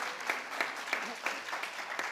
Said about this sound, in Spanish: Un aplauso para la señora Mechó.